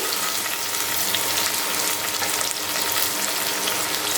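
Chopped onion and curry leaves frying in oil in a kadhai alongside red chillies for moong masala rice, giving a steady, close, continuous sizzle with no voices.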